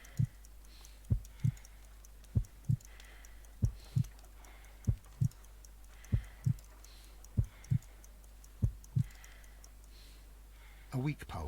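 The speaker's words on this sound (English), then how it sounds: "I need to concentrate and count the heartbeats." A slow, steady heartbeat in the detective game Sherlock Holmes: Crimes and Punishments, soft low thumps in lub-dub pairs repeating evenly about once a second over a faint hum, with a brief rustle at the end.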